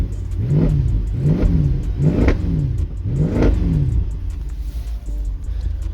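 A Mercedes C63 AMG with a 6.2L V8 revs hard in repeated rising and falling surges while drifting, loud and close, with a deep rumbling exhaust throughout.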